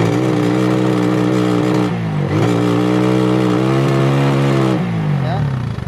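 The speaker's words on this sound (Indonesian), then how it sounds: "Gas bawah enak ya, gas bawah enak. Nah, cuman digas tinggi langsung berebet." A Suzuki Satria FU motorcycle engine with a fault that limits it at high revs and makes it smoke black revs loudly and up close, pitch climbing and dropping in several surges, then sputtering as it is pushed higher.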